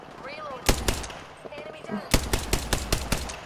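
Rapid bursts of automatic gunfire in Apex Legends, sharp loud cracks in two clusters with a short gap between them, over quieter in-game sounds.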